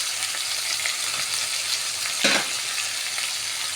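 Chicken drumsticks fry with garlic in a pan, a loud, even sizzle that carries through the clip, broken once by a short stir or turning clatter.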